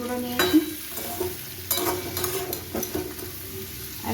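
Ginger frying in a pan with salt, turmeric and sugar for a banana-flower ghonto, close crackling sizzle broken by several scraping stirs and light clinks of a spatula, no talking.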